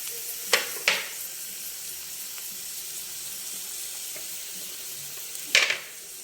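Onions frying in a pan for quinoa vegetable egg pulao, a soft continuous sizzle broken by a few sharp scraping stirs near the start and end, with no voices.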